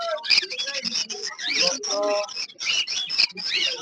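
Sharp, high squawks and chirps from several small pet birds at the Uluberia bird market, overlapping and constant, close by with a voice talking among them.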